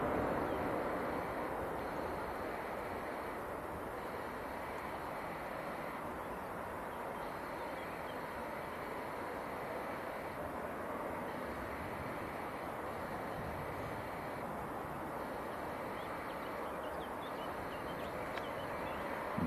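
Aircraft taxiing at Manchester Airport, heard as a steady, broad engine roar and rush that holds evenly throughout at a moderate distance.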